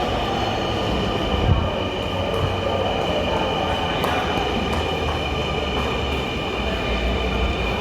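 A Dhaka metro rail train rolls through the station, a loud continuous rumble of wheels on rail with a faint squeal and light clatter, steady from start to finish.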